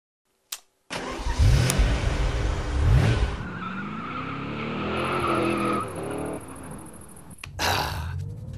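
A car engine cranks and catches after a short click, revs hard, then settles into a steady drive-away with rising engine tones and a brief door-like thump near the end.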